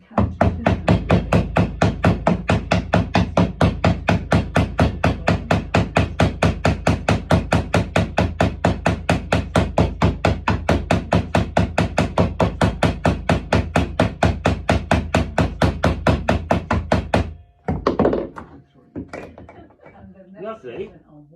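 Rapid, evenly spaced hammer blows ring out loud and close as copper boat nails and roves are fastened on a clinker rowing boat, roughly five strikes a second, stopping abruptly near the end before a few scattered knocks and a voice.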